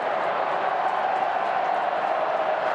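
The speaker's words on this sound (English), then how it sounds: "There is a massive roar at Patersons Stadium." Massive, continuous crowd roar at Patersons Stadium during an AFL match between Fremantle and Geelong, thousands of voices cheering with faint clapping mixed in, unbroken and loud throughout.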